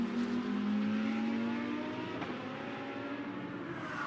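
A Lamborghini GT race car runs at Imola, its engine note climbing and fading as it passes at a distance, fairly faint and with no voices.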